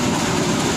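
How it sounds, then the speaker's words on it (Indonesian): An Indonesian Tawang Jaya regular economy-class train rumbles past at a station, a steady dense roar with low rolling rumble throughout the short moment, no voices. "Ini kereta api Tawang Jaya reguler kelas full ekonomi dari Semarang Poncol tujuan Jakarta Pasar Senen"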